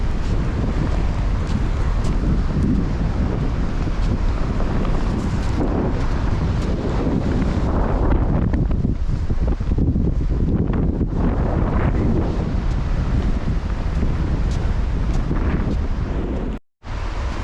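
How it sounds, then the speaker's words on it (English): Strong wind buffets the microphone on a wet, stormy Donegal beach at Rossnowlagh, a loud continuous roar with gusting surges and possible surf beneath, briefly cutting out near the end. "Just normal Donegal wet and wind."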